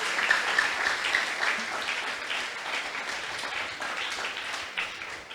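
Audience applauding warmly after a talk on the Protestant Reformation, a steady wash of many hands clapping at moderate volume that holds evenly for several seconds.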